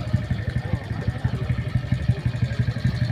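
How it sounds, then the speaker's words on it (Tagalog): Many motorcycles gathered outside a cafe and restaurant in Pamplona, Negros Oriental, their engines rumbling low and steady with rhythmic pulsing throughout, and a voice talking over the idling. "So ang daming motor dito guys"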